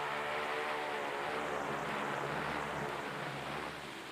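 A propeller airplane of an Antarctic mapping expedition taking off, a dense, steady engine and propeller roar that fills the whole clip, loud and close, easing slightly toward the end.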